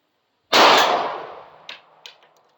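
A single sharp 5.7x28 rifle shot firing a 45 grain speed bullet outdoors, loud and close, then a decaying echo and two faint metallic pings after it.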